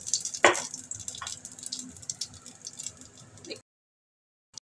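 Three chillies and radhuni seeds hit hot oil with a burst of crackling sizzle that settles into a lighter, uneven fry and then stops abruptly into silence.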